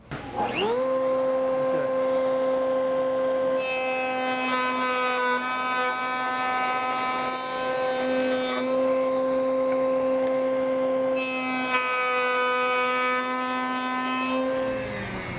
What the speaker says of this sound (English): we're going to turn the router on now and get started